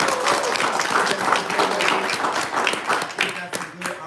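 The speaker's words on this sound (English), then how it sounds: "y'all, please clap it up for yourselves." An audience at a live talk show event clapping for themselves, a dense, steady wash of applause at moderate distance with some voices mixed in, holding fairly even throughout.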